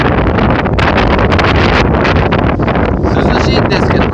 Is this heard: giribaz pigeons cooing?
no